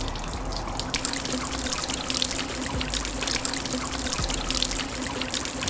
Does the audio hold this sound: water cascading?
yes